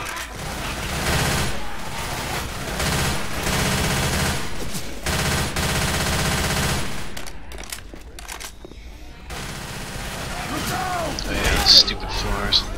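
Rapid video-game gunfire from Left 4 Dead 2, dense automatic bursts firing almost continuously and loudly, with players chatting over the shooting.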